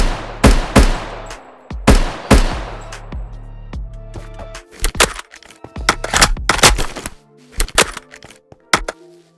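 Gunfire from a TacZ gun mod in Minecraft, several loud sharp shots with decaying tails, some in quick pairs, followed by softer mechanical clicks and clacks of reloading or handling.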